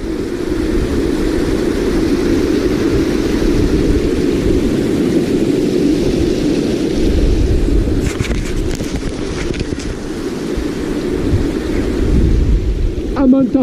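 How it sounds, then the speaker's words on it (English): A waterfall at Vatnajökull, Iceland pours with a steady, broad roaring rush that holds unchanged throughout, loud and close, with people's voices talking over it at times. "I'm looking at a waterfall."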